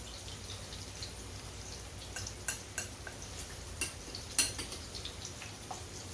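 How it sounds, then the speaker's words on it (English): A utensil stirs taco ingredients in a pan, a few faint scattered clinks and scrapes, the sharpest near the middle, over a quiet sizzling background. "So I'm just going to stir that up."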